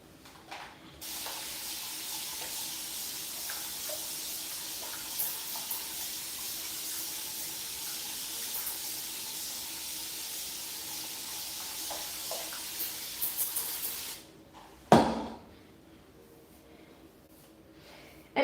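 A spray bottle mists water onto curly hair during styling, a steady hissing spray lasting many seconds, then stopping with a brief handling clatter and quiet.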